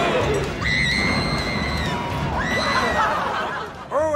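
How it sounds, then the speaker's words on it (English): A woman on a roller coaster screams loudly and repeatedly in long, high, wavering cries, close up, with rushing noise and commotion beneath. "Listen to her scream."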